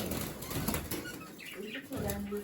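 Startled budgerigars flap their wings in a cage in quick fluttering bursts, with faint chirps and a voice talking over the commotion.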